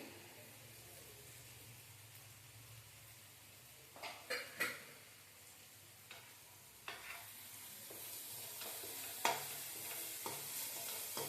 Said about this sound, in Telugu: కరివేపాకు వేస్తున్నానండి